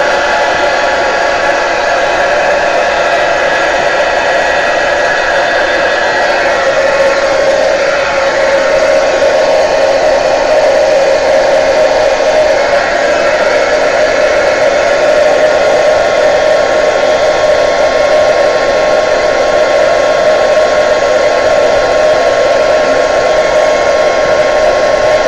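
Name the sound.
heat tool blowing on oil pastel artwork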